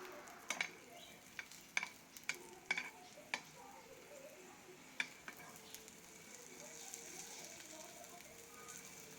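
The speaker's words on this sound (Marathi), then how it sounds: "छान खरपूस असं दोन्ही साइडला आलटून पालटून भाजून घ्या." An egg pattice roasts in a pan, turned from side to side, with a soft low sizzle broken by several sharp clicks and taps of a utensil against the pan, mostly in the first half.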